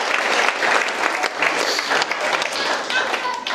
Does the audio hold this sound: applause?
yes